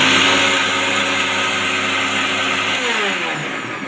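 A mixer grinder runs steadily at high speed, grinding turmeric and other ingredients into a fine powder. The motor whine is loud and continuous, easing slightly near the end.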